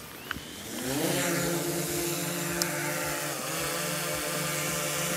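A DJI Air 3S drone spins up and lifts off, its rotor whine rising from a few clicks into a steady buzzing hum that shifts pitch slightly as it climbs, heard fairly close.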